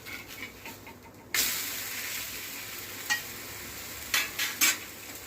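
A besan chilla on a pan begins with a quiet sizzle that jumps louder as it is flipped, followed by a steady frying hiss and several sharp spatula scrapes and taps near the end.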